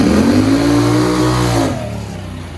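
A Turbo 670 dragster engine roars loud and close as it accelerates down a drag strip at night, a steady rising drone that drops off and fades after about a second and a half.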